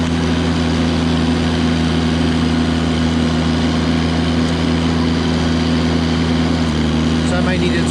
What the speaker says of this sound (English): I just engaged the PTO because it sounded like the clutch was grinding a little bit.